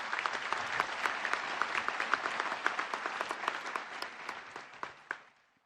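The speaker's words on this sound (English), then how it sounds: "Why not give them a round of applause as well?" A convocation audience applauds faculty and staff with dense, even clapping in a large hall that fades out over the final second.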